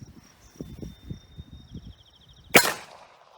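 A single sharp shot from a 1911 pistol firing 230 grain full metal jacket ammunition at a steel helmet outdoors, a loud crack near the end following quiet murmuring talk and a faint insect-like whine.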